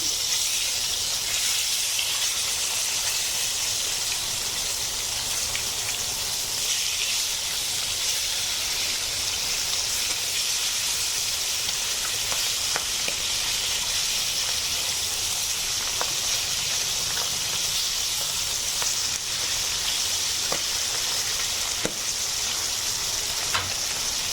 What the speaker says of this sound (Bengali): মাছগুলোর এক পাশ হয়ে গেছে, আমি একটু উল্টে দিচ্ছি মাছগুলো।